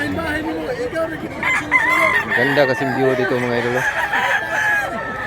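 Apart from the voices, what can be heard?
rooster crowing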